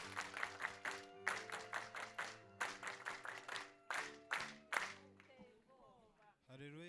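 A church congregation claps together in rhythmic bursts over loud, sustained music, the clapping fading out near the end as a voice briefly takes over.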